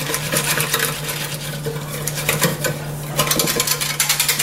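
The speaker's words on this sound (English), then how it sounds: "Then we're going to just mix this all together here." Taco pie filling with meat is stirred and mixed in a pan, giving steady scraping and clinking of a utensil against metal over a constant hum, with bursts of busier rattling.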